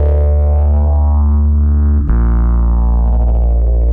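An analog phaser pedal on its vocal envelope setting: a sustained, distorted electric tone with a swirling, vowel-like filter sweep that shifts character partway through, loud and continuous with no talking.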